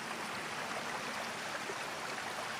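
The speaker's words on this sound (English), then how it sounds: "And the running water." A moorland stream on Dartmoor runs steadily, a close, continuous broadband rush and gurgle of water with no voices and no pauses.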